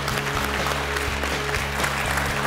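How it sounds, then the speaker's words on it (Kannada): An audience claps together in a dense, steady burst of applause, loud and close, with a low hum running beneath. "ಚಪ್ಪಾಳೆ"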